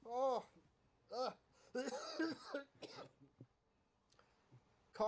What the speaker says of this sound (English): coughing for real.